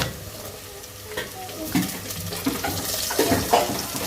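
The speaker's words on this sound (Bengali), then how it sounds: "শালগমের জন্য পেঁয়াজ আর তেল দিয়ে দিলাম ভাজা হয়ে আসলে পেঁয়াজ কলি দিয়ে দিব" Onions frying in oil in a pan for a turnip curry give a continuous sizzle, with stirring scrapes and a few utensil knocks layered over it.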